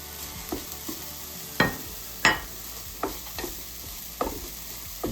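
Bacon sizzling in a pan for sausage rolls, a steady low frying hiss under intermittent scraping and stirring knocks, fairly quiet and close.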